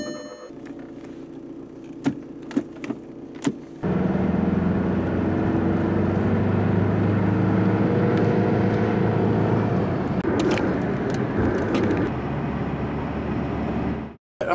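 A Jeep Cherokee with a worn front end starts up and drives, a steady engine hum and road rumble heard from inside after a few clicks, ending abruptly.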